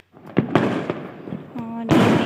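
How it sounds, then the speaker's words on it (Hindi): Diwali firecrackers bursting outside a balcony at night, several sharp cracks and pops spaced irregularly, with a whistling tone and a louder crackling burst near the end. "पटाखों की आवाज़ गूंज रही थी।"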